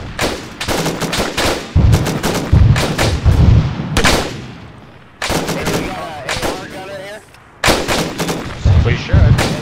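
Heavy gunfire in ArmA 3 co-op play during a ridgeline assault: dense bursts of rifle and machine-gun shots with booming reports, clustered in loud volleys separated by short lulls, with faint voices beneath.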